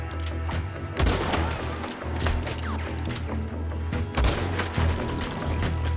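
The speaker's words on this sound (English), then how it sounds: "sniper rifle." Sniper rifle shots in Red Dead Redemption II, sharp booming reports at about one and four seconds cutting through a steady low in-game rumble and scattered clatter, with no talk.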